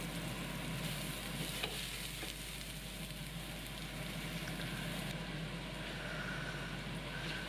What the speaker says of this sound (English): add the meatballs and swizz them around and get them browned all over